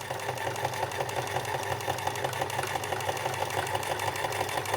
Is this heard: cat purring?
no